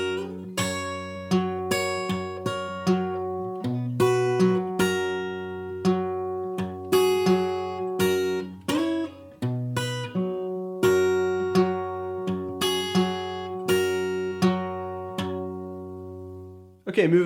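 Acoustic guitar with a capo slowly strumming and picking the chorus of a folk song, clear plucked notes over a steady bass line, unaccompanied, ending in a short fading ring.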